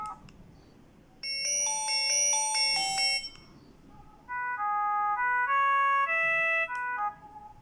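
A GSM dual-SIM cordless handset phone plays two short electronic ringtone melodies, bright chiming tones, one after another with a brief pause between them, clear and close.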